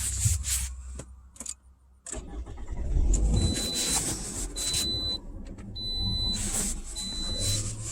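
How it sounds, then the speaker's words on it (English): A Toyota RAV4 engine starts after a few quiet clicks and handling noises, settling into a low steady idle, while thin electronic dashboard chimes beep repeatedly over the running engine. "I'm going to turn the car on to show you."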